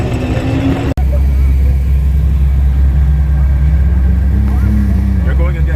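Cars idle and rev in loud, continuous low engine rumble ahead of a drag race at an import faceoff event, with a steady tone that rises slightly near the end and crowd noise over it.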